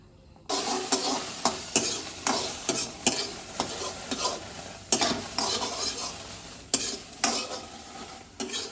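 Chicken and potato cooking in hot oil in a pan over a gas flame, a steady close sizzle broken by repeated scraping stirs and clinks of a spoon against the pan, with no talk.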